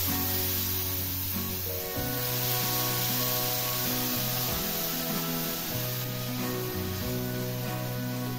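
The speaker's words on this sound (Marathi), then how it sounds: "आता ह्यामध्ये टाकायचं आहे पाणी।" Water is poured into sizzling masala for egg curry, making a continuous loud hissing spray with background music playing throughout.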